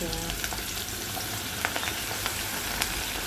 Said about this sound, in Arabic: الزيت هننزل بالبصل بتاعنا اللي احنا حطينا عليه نشا وعليه دقيق